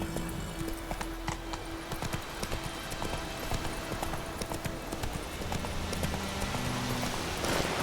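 Galloping hooves of the horse Roach in The Witcher 3 pound in a steady, rapid clip-clop rhythm throughout, close and fairly loud, with a brief whinny-like tone and ambient game sound layered over the hoofbeats.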